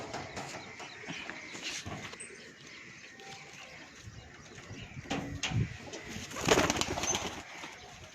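Pigeons coo softly at a rooftop pigeon-flying contest in Mirpur, low throaty calls repeating against quiet outdoor background noise, with a few sharper rustles and knocks mixed in.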